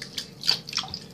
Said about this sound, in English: I'm gonna put some water in here